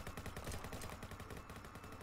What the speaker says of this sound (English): You can hear the gunshots above